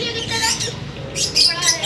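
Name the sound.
parrots and finches squawking in an aviary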